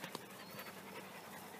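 Seven-week-old puppies pant close by in quick, steady, continuous breaths, with no talking.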